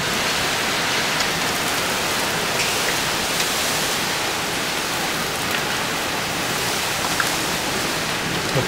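Steady, dense rain with small hail pours down during a July storm in Winnipeg, a loud unbroken wash of noise that holds even throughout with no voices.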